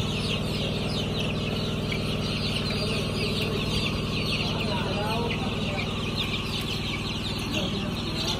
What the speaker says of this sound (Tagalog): Medyo maliksi na talaga, mga healthy yung ating mga sisiw